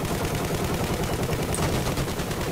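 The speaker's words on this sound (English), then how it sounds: "why are you shooting at me?" Dense, continuous gunfire from Battlefield 4 gameplay, a loud, steady rattle of rapid shots, like machine-gun bursts, with no letup for the few seconds heard.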